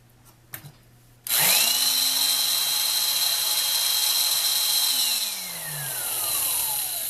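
A power drill spins up sharply after a few clicks, whining steadily at high speed, then winds down as the trigger is released.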